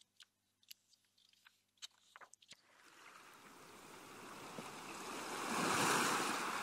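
Ocean waves at a beach, with a few faint clicks and rustles first and then a steady rushing surf that swells to a loud broad wash near the end.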